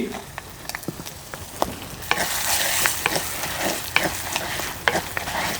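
Mustard seeds, cumin, asafoetida and dried red chillies fry in hot oil with chana and urad dal for a tempering, a close crackling sizzle that swells midway, with rapid stirring scrapes and sharp popping ticks.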